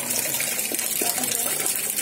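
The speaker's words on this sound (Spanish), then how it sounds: "En ningún vídeo anterior he grabado la fuente" Water fountain splashing in a courtyard at a Moroccan-style patio inauguration: a continuous, even hiss of falling and pouring water, fairly quiet and steady throughout with no talk.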